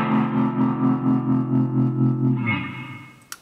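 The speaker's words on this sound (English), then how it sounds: "Then we got tremolo." Tremolo effect on a Behringer V-Ampire LX-210 guitar amp: a sustained, distorted chord pulses in steady rhythmic swells, then fades out into a brief click near the end, with no talking.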